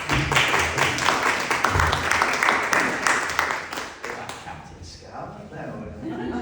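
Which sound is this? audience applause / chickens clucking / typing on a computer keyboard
audience applause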